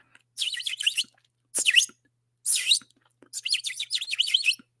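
Birds chirp in four distinct bursts of rapid, high tweets, close and clear against near silence, with short pauses between the bursts and no talking.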